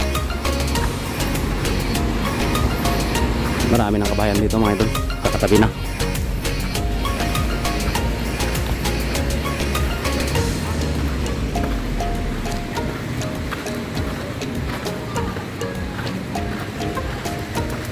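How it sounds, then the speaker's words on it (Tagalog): Small ocean waves wash steadily at Olanen beach, a continuous broad rush of surf that runs the whole time beneath someone talking. "Ito malilit ng alon."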